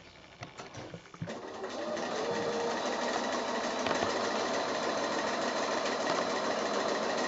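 Sewing machine sewing a seam line on a kimono foundation-pieced quilt block, starting with a few faint clicks, then a steady, close mechanical whir that runs continuously to the end.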